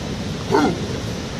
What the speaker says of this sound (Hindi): क्या ये कुत्ते के भौंकने से डरने वाला है?